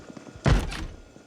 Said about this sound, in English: Who's banging on the door?